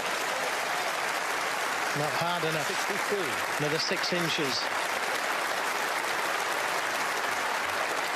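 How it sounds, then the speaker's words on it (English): Snooker crowd at the 2017 UK Championship final between Ronnie O'Sullivan and Shaun Murphy applauding a positional shot, steady sustained clapping throughout while a commentator speaks over it. "the crowd enjoyed the attempted positional shot"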